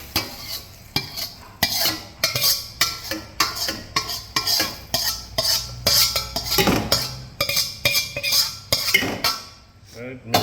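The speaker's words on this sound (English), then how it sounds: "Right, mix vegetable and meat." Chicken and vegetables for chop suey being stirred and tossed in a pan, a rapid series of loud scraping, clanking utensil strokes against metal over a light sizzle, with brief talk.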